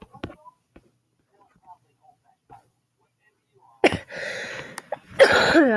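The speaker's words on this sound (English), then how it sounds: "Sorry for my cough." A person coughs close to the microphone: a few faint, short coughs early on, then two loud, harsh bursts near the end, with brief talking mixed in.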